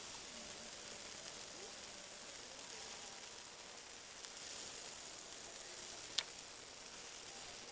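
Meatballs fry in a pan of grease, giving a steady, faint sizzle with an occasional small pop.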